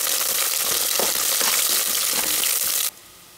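Onion dropped into hot oil with dry spices for an egg biryani, a loud dense close sizzle with crackling bursts that cuts off abruptly near the end.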